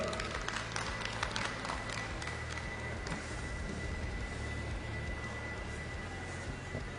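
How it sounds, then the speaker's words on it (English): An audience at the Bocuse d'Or Europe 2020 opening in Tallinn, Estonia, applauds for Liina-Maria Lepik, a dense steady patter of many hands that carries through the clip at moderate level before slowly thinning. "Let's give the lady a greatest applause we can in this early morning hour."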